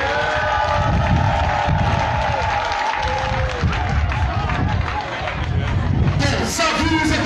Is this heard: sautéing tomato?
no